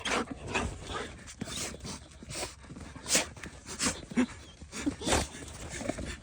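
A dog shut inside a locked car at Yellowstone National Park, in May snow, barks, whimpers and pants in a busy, steady stream of close excited sounds, with people's voices mixed in around it.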